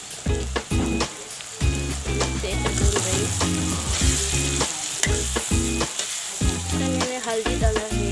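Caterpillars frying in hot oil in an Arunachal Pradesh kitchen, with a loud, continuous sizzle close by and stirring clatter and scraping in the pan throughout.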